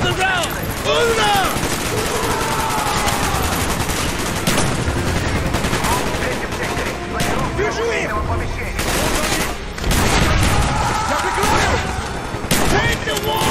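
Heavy gunfire in Call of Duty Black Ops: sustained loud bursts of automatic fire and shots mixed with shouting voices and battle noise, continuing almost without pause.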